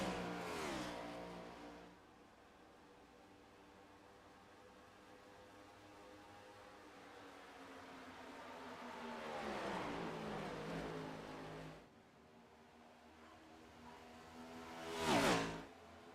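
Race cars roar around Indianapolis Motor Speedway in a championship race, a sustained engine drone swelling as cars approach, then a sharp close pass near the end.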